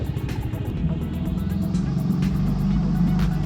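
The outboard motor on a Catalina 22 sailboat runs close by with a throaty, steady low rumble that rises slightly as it is given gas.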